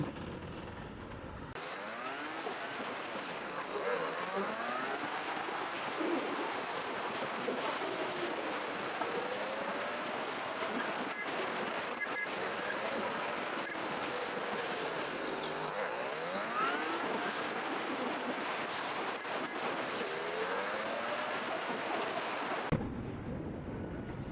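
Steady road traffic rumbling past outdoors, a continuous broadband wash of passing vehicles with gusty wind noise, loud and sustained for the whole stretch with no talk.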